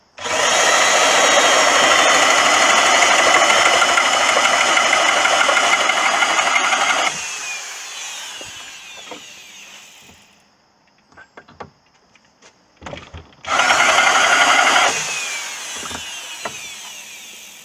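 A drill-driven Lumberjack Tools tenon cutter bites into wood with a loud sustained whine for about seven seconds, then quiet handling knocks follow before a second shorter burst of cutting.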